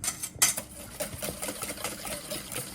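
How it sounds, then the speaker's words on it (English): A whisk mashing bananas in a bowl, close-up, with irregular clinks and scrapes of metal against the bowl and soft squelching between them, no speech. "you could use your whisk to mash up the bananas too"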